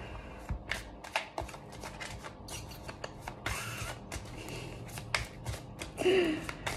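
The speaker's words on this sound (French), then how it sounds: "on va mélanger le petit jeu." A deck of cards shuffled close up, a rapid series of crisp riffling flutters and snaps, with one longer riffle in the middle and a few soft handling noises.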